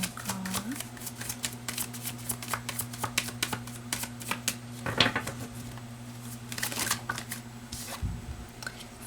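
Tarot cards are shuffled close by, their crisp riffling and flicking running in quick repeated bursts with a faint steady hum underneath.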